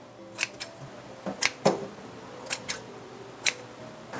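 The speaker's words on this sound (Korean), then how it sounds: "그리고 가위로 이렇게 잘라주고요" Kitchen scissors snip soaked wood ear mushrooms in a string of sharp, close clicks, several quick cuts spaced irregularly with no talk.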